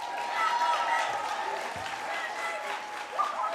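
Audience applause for a school advanced band at a year-end concert, a steady wash of clapping sustained throughout, fairly even in loudness with a small swell near the end.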